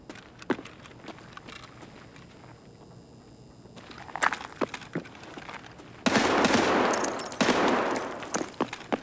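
SA-58 rifle fire in Escape From Tarkov, sharp rapid shots and a dense burst of automatic gunfire near the end, mixed with scattered footsteps and impacts.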